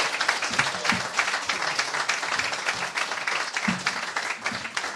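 A lecture audience claps to welcome speaker Dave Holscher, a steady wash of moderate, fairly distant applause from many hands that holds evenly without a break.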